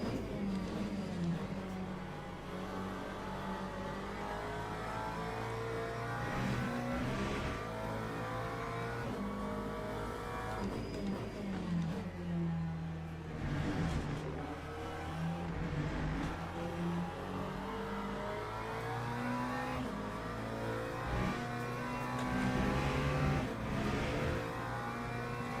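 A McLaren race car in Le Mans Ultimate howls through a lap, its engine rising and falling steadily through gear changes and revving at a moderate level with no talking.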